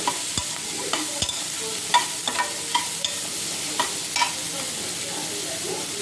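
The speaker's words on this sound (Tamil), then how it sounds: "நல்லா வதக்கிக்கலாம்." Chopped ridge gourd sautéing in a pan, with a steady close sizzle and repeated scrapes and knocks of a spoon stirring against the metal.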